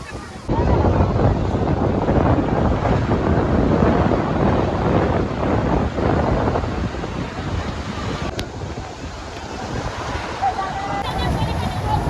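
Surf rolling in steadily at Bakkhali beach, a broad continuous wash of breaking waves with wind rumbling across the microphone throughout, loud and close.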